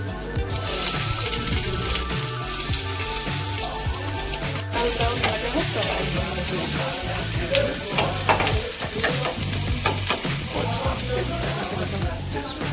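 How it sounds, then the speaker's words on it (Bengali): Onions and spices stir-frying in hot oil in a wok for an egg curry, with a steady loud sizzle throughout, frequent stirring scrapes and clinks, and some running-water sounds in the background. "এরপর কড়াইয়ে তেল দিয়ে একে একে আমরা এগুলো দিয়ে চলো মশলাটা কষে নিই"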